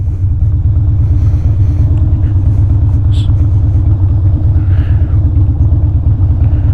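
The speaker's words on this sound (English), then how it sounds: "this is midday traffic" Midday road traffic rumbles loudly and close, a heavy continuous low engine drone from a car with faint passing vehicle sounds above it.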